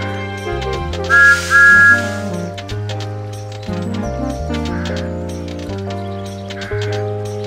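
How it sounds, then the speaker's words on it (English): Two short, bright train-whistle toots from Thomas the Tank Engine ring out over bouncy, cheerful game music in Thomas and Friends Railway Adventures. "This is Thomas's whistle."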